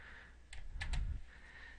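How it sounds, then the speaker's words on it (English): Three crisp computer keyboard clicks in quick succession as the Control-Shift-Q shortcut is pressed to run a spreadsheet macro, close and clear against a quiet room. "the keyboard shortcut is Control-Shift-Q."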